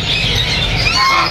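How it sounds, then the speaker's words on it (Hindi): Ducks at a Sunday bird market in Bahawalpur give loud, continuous honking and squawking calls close by, with no voices over them. "एक डक्स का पेयर हमारे पास मौजूद है"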